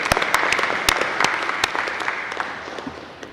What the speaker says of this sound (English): they deserve a round of applause for the work that they have done